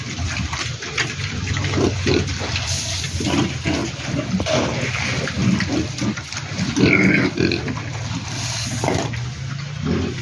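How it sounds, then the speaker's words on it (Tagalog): Pigs on a farm grunt and squeal steadily at feeding time, some unable to reach the feeding trough, with a continuous crowded rumble and splashing-like background throughout. "may mga baboy na hindi nakaka nakaka pasok sa kainan nila"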